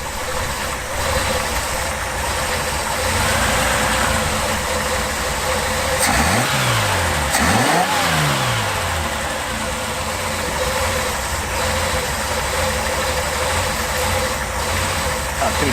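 A Reliant Scimitar engine idles steadily, then revs up and drops back twice in quick succession. It is loud and close, with people talking around the car.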